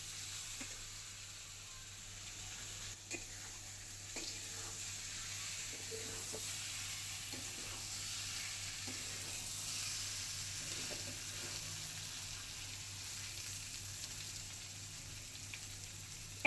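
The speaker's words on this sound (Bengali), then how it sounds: "কিছু সময় এটাকে একটু ভাজবো এই পেঁয়াজ সমেত শিং মাছগুলোকে" Shing fish fry with onions in a pan, giving a soft, steady crackling sizzle with faint stirring clicks throughout, quiet and close, with no voices.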